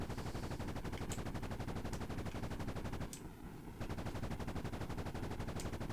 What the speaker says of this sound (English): using the multi-grenade launcher because it's almost maxed